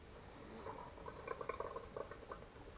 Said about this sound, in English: now you might be able to see the dripping going on. It's a steady stream